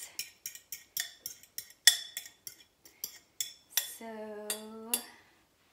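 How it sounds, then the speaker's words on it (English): A metal utensil clinks rhythmically against a bowl while wet ingredients, including eggs, are mixed into dry ones for keto muddy buddies, a quick steady series of sharp taps, close and clear, ending with a ringing scrape and a short spoken word. "basically you just mix it with the dry ingredients"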